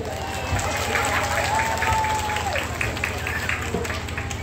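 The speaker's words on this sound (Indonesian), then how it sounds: "Tepuk tangan itu ibu-ibu" Women in the audience at an Islamic religious gathering clap together, a steady crowd applause with a voice or tone running over it throughout.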